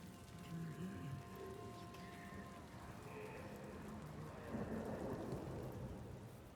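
Heavy rain pours steadily through a thunderstorm in the video game Senua's Saga: Hellblade II, with low rolling rumbles beneath the downpour and a few faint tonal murmurs, and no one speaking.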